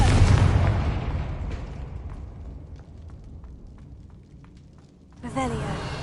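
A Confringo spell blast in a video game, a loud booming explosion that decays into a rumbling tail, followed by a second burst of crackling noise, with a shouted voice over it.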